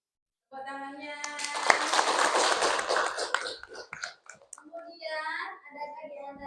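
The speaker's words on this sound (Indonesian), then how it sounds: "Tepuk tangannya." An audience, including children, claps together at an Islamic study session, the applause loud at first and then thinning into scattered claps, with some young voices mixed in.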